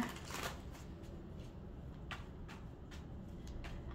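Tarot cards are shuffled close by, quiet riffling and soft slaps repeating in short bursts against a faint background hiss.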